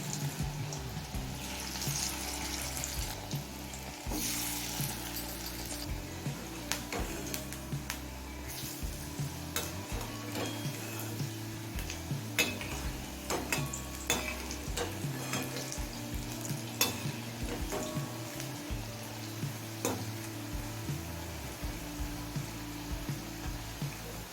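Steady crackling sizzle of water lily flower fritters deep frying in hot oil, continuous and close, with occasional clinks and bubbling throughout.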